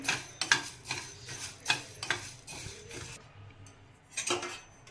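Coriander seeds dry-roast in a hot pan for red chilli pickle, stirred with a utensil that scrapes and clinks against the metal in irregular bursts, with soft rattling between strokes and a quieter pause near the end.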